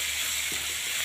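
Spices such as red chili powder, coriander-cumin and garam masala stir in a frying pan for corn masala Maggi, a steady close sizzle with faint scraping from the spoon.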